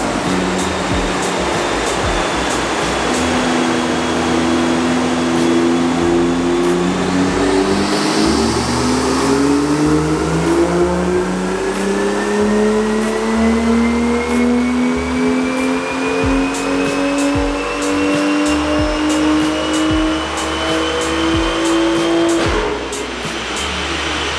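A BMW M2 engine with a catless downpipe and no tune revs steadily upward under load on a dyno, pitch climbing over many seconds, loud and continuous, then cuts off abruptly near the end.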